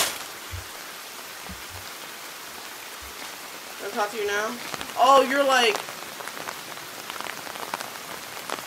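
Steady rain patters on surfaces in the horror video game The Bathhouse, a constant close hiss of drops that carries on while someone talks briefly partway through.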